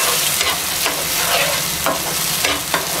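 Millet rava being stirred into a sizzling tempering in a pan, with busy continuous frying crackle and repeated scraping strokes of the spoon, close and loud.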